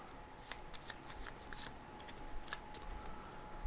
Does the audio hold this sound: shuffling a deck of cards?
yes